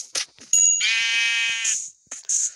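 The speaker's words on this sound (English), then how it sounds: "Let's go kill the sheep." A Minecraft sheep bleats once in a long wavering tone, bracketed by short clicky game sounds, clear and close with no talking.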